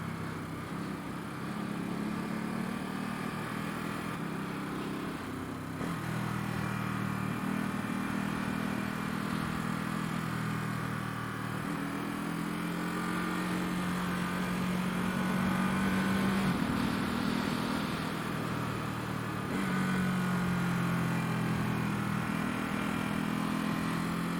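A motorcycle engine drones steadily throughout while engine braking downhill on a mountain pass road in Japan, its pitch shifting between a low rumble and a higher whine as revs rise and fall.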